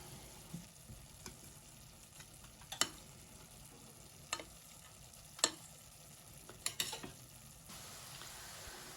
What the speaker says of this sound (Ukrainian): Пам'ятаємо, що у нас на пательні грибочки, час від часу помішуємо.